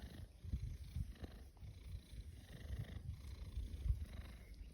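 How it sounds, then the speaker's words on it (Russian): A cat purrs steadily and close by on a hot day, a low continuous rumble with soft rhythmic pulses and no voices over it. "А мисенчик мурчить"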